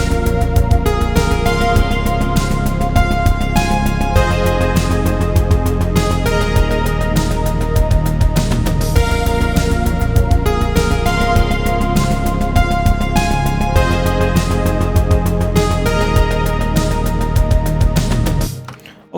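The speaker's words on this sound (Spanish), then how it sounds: "Entonces, ahora nuestro beat suena así." A programmed synthwave drum beat in FL Studio with kick, snare, toms and crash, looping steadily with synth layers for about nineteen seconds, then stopping abruptly.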